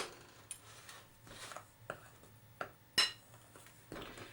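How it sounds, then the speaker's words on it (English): A spoon scrapes and clinks around a mixing bowl as half a teaspoon of ginger is stirred into cake batter, giving soft intermittent taps and a few sharper knocks, fairly quiet and close. "Half a teaspoon of ginger. And just mix that in."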